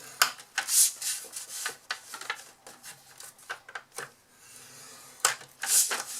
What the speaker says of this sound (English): we're going to score at 1 inch, and don't forget to add your shim